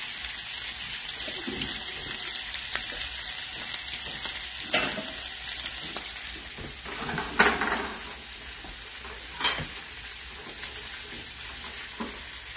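Sliced peppers for chicken cacciatore fry and sizzle in a pan, a continuous close hiss broken by several stirring scrapes and clatters, with one louder burst partway through.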